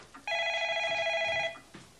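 A telephone rings once, loud and close, with a bright electronic trill lasting just over a second in a quiet indoor room. Faint movement sounds come before and after the ring.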